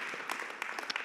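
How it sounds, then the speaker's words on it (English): A church congregation claps hands during a Sunday service, a brief burst of scattered, overlapping claps heard at moderate distance. "Give God a hand clap, please."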